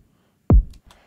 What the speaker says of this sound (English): So it's basically a sine wave that pitch bends down.